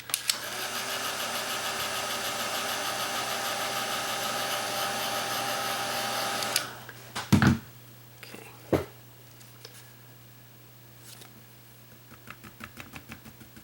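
A hair dryer blows steadily and loudly on wet acrylic paint for several seconds, then switches off, leaving a few thumps and clatters over quiet background.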